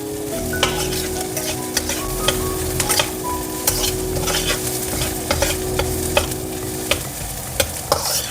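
Capsicum and onion stirred and fried in a pan, with a steady loud sizzle and repeated scrapes and clinks of the spatula against the pan, close up with no talking.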